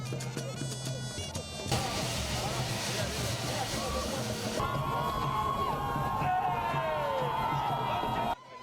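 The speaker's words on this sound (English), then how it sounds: "Gombe Airport Lawanti suddenly turned lively with political songs, chanting, an unprecedented crowd of people" Large crowd of political supporters at Gombe airport, cheering, singing and chanting, a loud continuous roar of many voices with whoops and a shift in texture partway through, ending abruptly.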